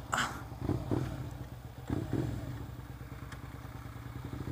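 A Suzuki SV650S motorcycle is ridden at low speed, its engine rumbling with a few uneven bursts of throttle and clunks, sounding fairly close without any talk.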